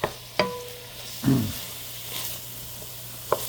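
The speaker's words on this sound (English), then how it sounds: "We still got to saute this down" Vegetables sautéing in a pan for Creole red beans and sausage, a quiet steady sizzle with a few sharp clicks and a spoon scrape as the mixture is stirred.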